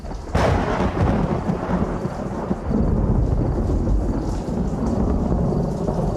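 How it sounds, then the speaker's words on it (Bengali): A sharp crack of thunder bursts out, then rumbles on beneath a steady hiss of rain, with another low rolling rumble midway. "আচমকা বাজ পড়ার শব্দে আমাদের কানে যেন তালা লেগে গেল।"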